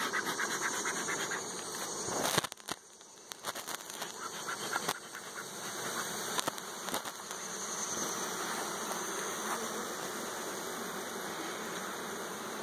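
A dense swarm of honey bees hums steadily close by at an open hive, with a few sharp knocks and rustles early on before the buzzing settles into a constant drone.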